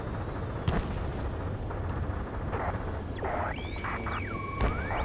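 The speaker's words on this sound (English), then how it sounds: "gunfire and the roar of jets echoing through the streets" In Ace Combat 7, sharp gunshot cracks and booming blasts sound over a dense rumble in city streets, while engine whines sweep up and down like jets passing overhead.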